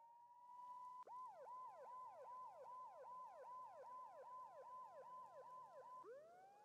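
Police sirens in the Max Payne 2 video game wail in a fast, repeating yelp cycle, loud and steady for several seconds before sliding into a slower rising tone at the end.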